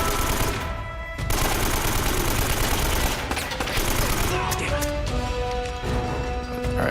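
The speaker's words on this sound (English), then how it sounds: "What are you shooting at?" Dense bursts of automatic gunfire and crashing impacts fill a firefight in the action-adventure game Uncharted: Drake's Fortune, loud and continuous with brief lulls, along with other in-game sounds.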